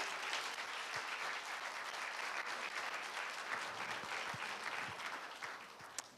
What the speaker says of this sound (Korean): 우리 큰 박수로 우리 환영하겠습니다.